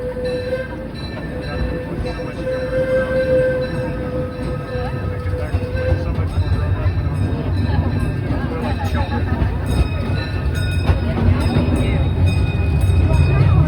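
Disneyland Railroad steam train rolling along steadily with a continuous low rumble and clatter of the cars, a crowd murmuring beneath it and a brief tonal squeal or whistle early on.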